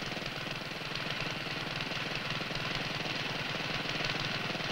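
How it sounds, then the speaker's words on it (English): A pipe-joining machine for small pipelines, which makes Zaplock joints without welding, runs with a steady mechanical engine-like drone and a rapid knocking pulse, constant and moderately loud for the whole stretch. "This machine makes pipe joints without welding."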